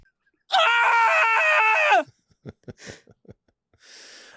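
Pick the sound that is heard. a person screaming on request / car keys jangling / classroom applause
a person screaming on request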